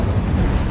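Incendio fire spell blast in Hogwarts Legacy, a short, dense, loud whooshing burst of flame with a heavy low rumble.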